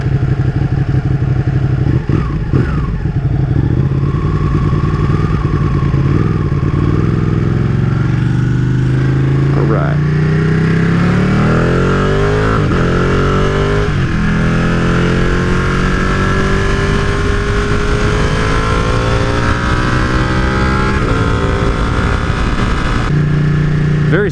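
A Ducati 959 Panigale motorcycle being ridden through corners, its engine note rising and falling steadily with smooth gear shifts, loud and close under constant wind rush.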